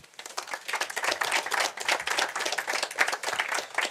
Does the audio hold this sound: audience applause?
yes